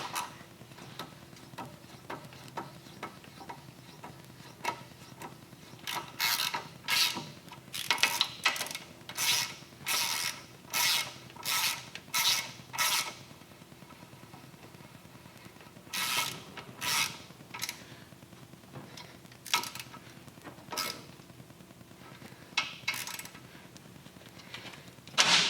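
Bolts being run in and tightened on a Harley-Davidson Dyna Street Bob's Ohlins suspension, a series of short ratcheting bursts in clustered rhythm, fairly close and moderately loud with pauses between.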